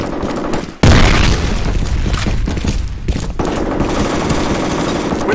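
Grenade explosion in the shooter F.E.A.R. during heavy combat, a sudden loud blast after a brief lull, followed by a long rumbling roar mixed with rapid gunfire.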